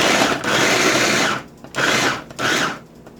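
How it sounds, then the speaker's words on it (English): An electric chopper whirs loudly in three bursts, a long pulse followed by two shorter ones, as vegetables are chopped close by. "Here I am chopping up my vegetables."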